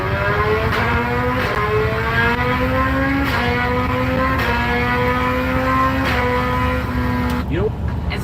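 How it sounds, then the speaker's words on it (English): A Suzuki Hayabusa motorcycle engine fitted in an F1-style car revs hard and close, its high whining pitch climbing and dropping through repeated gear changes in one loud continuous run. "if you don't think a Hayabusa can sound like an F1 car,"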